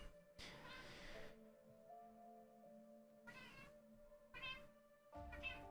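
A house cat meows a few times close to the microphone, short separate cries over a quiet background tone with no talking.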